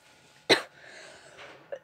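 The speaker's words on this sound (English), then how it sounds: "I have a really bad cough." A single sharp cough bursts out, near and loud, followed by a faint breathy exhale and a smaller throaty sound at the end.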